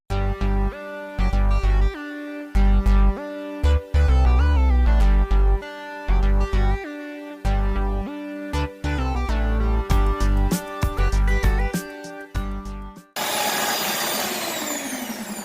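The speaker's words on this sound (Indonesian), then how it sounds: "Lalu ini akan saya mixer dengan kecepatan tinggi dan akan saya mixer sampai mengembang" An electric mixer beats sponge cake batter of eggs, sugar and vanilla at high speed, a loud steady motor whine with pitch shifting as the beaters move through the bowl, ending in a burst of broadband noise.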